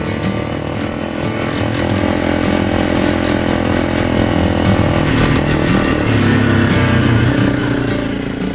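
Honda motorcycles ride an open track at a Queensland rally, with a steady, loud engine drone holding throughout and the engine note rising slightly toward the end, with no talk.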